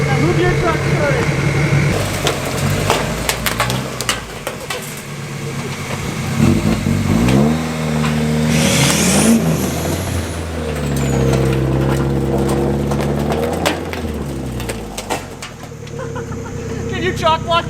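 Truck engine revving as it moves, loud and rising and falling in pitch with a hiss of air brakes, while people talk over it.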